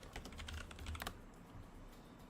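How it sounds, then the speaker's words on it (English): Rapid clattering keystrokes on a computer keyboard, close and fairly quiet, in a burst of quick taps during the first second before trailing off into low room noise. "Let's type in Captain America."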